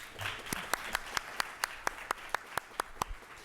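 An education conference audience claps for Louisiana Senator Conrad Appel, a sparse hand with one or two prominent sharp claps landing in a steady rhythm over faint scattered clapping.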